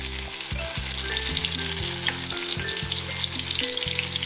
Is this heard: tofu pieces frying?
yes